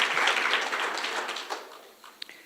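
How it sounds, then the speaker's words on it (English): Audience applause at a conference, a dense wash of many hands clapping that slowly thins and fades out, with a few last scattered claps near the end. "Let's give that a round of applause."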